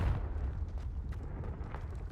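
Confringo fire spell blasts in Hogwarts Legacy give low, rumbling explosive booms with crackling bursts spread across the clip at moderate, somewhat muffled level, with no talk.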